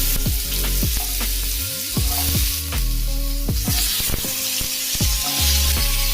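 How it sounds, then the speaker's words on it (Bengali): Two large cut potatoes frying in a tablespoon of mustard oil, a loud close sizzle with stirring clatter and scraping in the pan, no talking. "এবার এই আলুগুলোকে আমি ভেজে নেব।"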